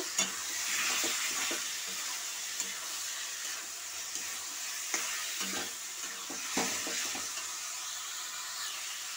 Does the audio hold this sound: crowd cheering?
no